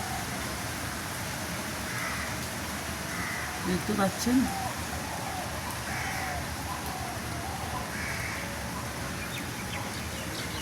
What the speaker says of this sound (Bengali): বেশ ভালো বৃষ্টি